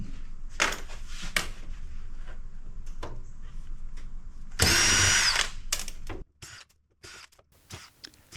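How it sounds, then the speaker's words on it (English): A power drill rapidly unscrews screws from the side of telecom equipment being scrapped, with short whirring bursts followed by one longer, louder high-pitched run, then a few faint clicks and taps. "Don't you wish you could really unscrew stuff this fast?"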